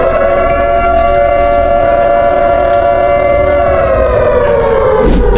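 Cold War era nuclear attack siren, a loud continuous wailing tone with rich harmonics holding steady and then drooping slightly near the end, sounding alone without voices.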